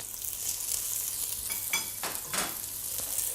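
Garlic and softened onions fry in a pan with a continuous bright sizzle, swelling in a few louder bursts as the pieces are moved about, close and without talk.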